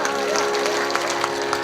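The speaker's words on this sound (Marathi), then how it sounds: "जोरदार टाळ्या" Crowd applause at a Hindu Shiva Katha religious gathering, a brief burst of dense clapping mixed with voices and a faint sustained tone beneath it.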